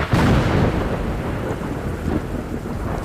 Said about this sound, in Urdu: بجلی گرجنے کی آواز بہت ہی خطرناک تھی۔